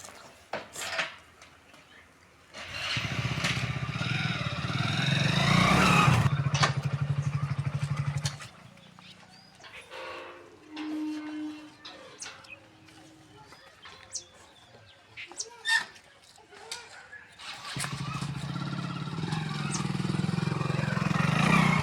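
A motorcycle engine runs in two loud, sustained stretches of steady rumble, separated by a quieter gap where birds chirp faintly and small clatters sound.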